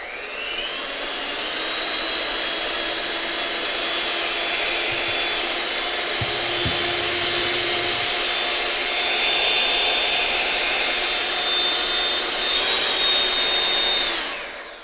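Hamilton Beach six-speed hand mixer with an eject button running continuously, a steady close high-pitched motor whine that holds level and rises slightly in pitch toward the end.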